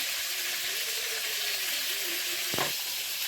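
Cumin seeds and a bay leaf sizzle in hot oil in a home kitchen, a steady, close hiss with a brief stir or clatter near the end.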